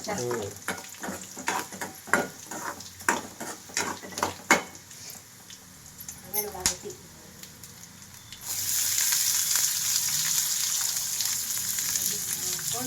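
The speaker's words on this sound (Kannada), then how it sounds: "ಅದು ಸ್ವಲ್ಪ ಹಸಿ ಹೋಗ್ಬೇಕು, ಚೆನ್ನಾಗಿ ಫ್ರೈ ಆಗ್ಬೇಕು ಅದು ಎಣ್ಣೆದಾಗ" Onion frying in oil, with stirring and a few pan and utensil knocks under a voice talking, then a loud even sizzle fills the last few seconds alone.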